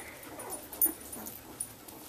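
Eleven-day-old Samoyed puppies whimper softly around their mother, faint thin cries and small yips scattered across a quiet, close indoor scene.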